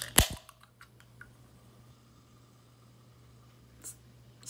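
A can of New Coke cracks open with one sharp snap and brief fizz at the start, followed by a faint hiss and small clicks in an otherwise quiet room.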